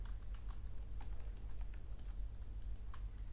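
A computer keyboard being typed on during a CSS coding lesson gives a quiet run of light, irregular key clicks over a constant low background hum.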